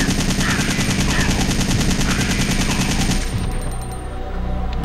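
Rapid automatic gunfire from Resident Evil 3 Nemesis on PS1 rattles loud and close in a sustained burst, then cuts off into scattered game sounds and a low rumble.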